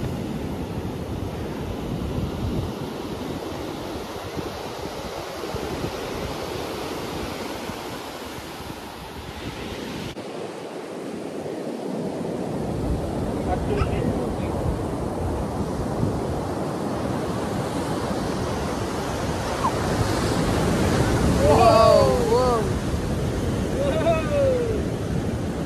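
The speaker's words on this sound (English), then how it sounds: "Wow, the big waves are coming." Big ocean waves roll and crash on Varkala Beach in Kerala, a continuous loud surf roar with wind buffeting the microphone, rising toward the end, with people exclaiming over it.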